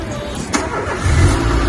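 An old Renault Symbol car engine cranks and catches, a brief crank followed by a steady, louder mid-pitched running rumble close by, with no talking.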